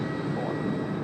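A jet airliner departing runway 16 left at Tokyo Haneda sends a broad, steady roar from a distance across a brief moment, with no talk over it.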